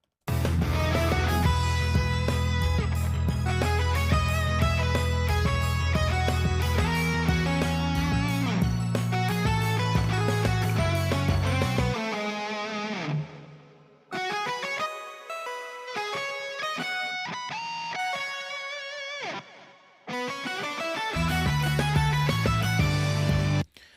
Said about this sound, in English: I have paired together my lead guitar with a synth